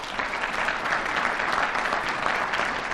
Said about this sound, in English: everybody give these two gentlemen a great round of applause